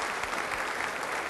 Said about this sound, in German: aber das ist ihr Applaus